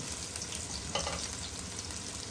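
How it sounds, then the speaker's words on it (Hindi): Onions hit hot oil in a karahi and fill the clip with a steady, dense, close sizzle and crackle. No voices are heard. "सबसे पहले जो है ना इसके अंदर हम प्याज़ों को ऐड करेंगे।"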